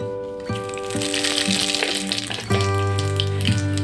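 Bay leaf, chili and radhuni spices frying in hot mustard oil, a steady close sizzle and crackle with a clinking pan or utensil ringing through, no talking.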